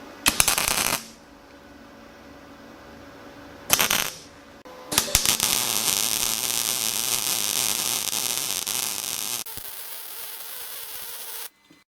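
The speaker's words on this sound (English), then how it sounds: "So now it's all clamped, I can tack weld it and fully weld it together," Clamped metal being tack welded and then fully welded: short crackling bursts of arc from the tacks, followed by a long, steady, hissing weld bead that then changes to a quieter buzz before it stops.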